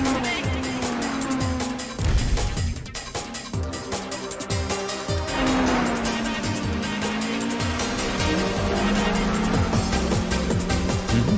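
A Toyota AE86 races hard uphill after a bridge, its engine revving high and steady while tires squeal repeatedly through the corners, loud and close for the whole stretch.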